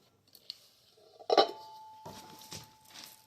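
Pieces of a Korkmaz cookware pot set, including a heavy lid, being handled, giving a few metallic clanks and knocks, one louder clatter in the middle, close by and alone.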